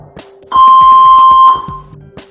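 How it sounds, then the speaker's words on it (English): A Saver One automated external defibrillator gives a single loud, steady electronic beep about a second long as it powers on, with faint soft clicks and handling noise before and after. "A beep will confirm it's switched on."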